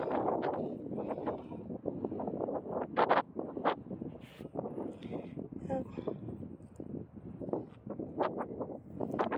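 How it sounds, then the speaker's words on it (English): Outdoor wind buffets the microphone while rockhounding for moonstones and moss agate near Lavic, California, producing a continuous rough, fluttering rumble with bursts of gusts that stay loud throughout. "So windy."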